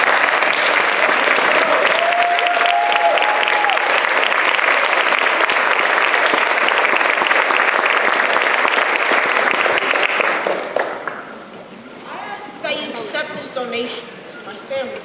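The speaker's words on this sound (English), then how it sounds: "would you please stand and give a round of applause to this wonderful committee" A standing audience at a Kansas City community speaking engagement gives a loud, sustained round of applause for about ten seconds before it fades into a speaking voice.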